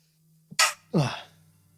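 A single sharp sneeze up close, a quick inhale then an explosive burst, against a faint low hum.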